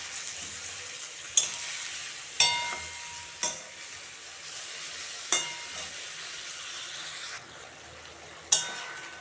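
Masala for Pabda fish curry is sautéed in a pan, with a continuous close sizzle and about six sharp metallic clanks of a spatula striking the pan at irregular intervals.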